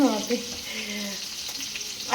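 Poomeen fish sizzles steadily in hot oil in a home kitchen, a continuous close crackle and hiss with faint scraping underneath.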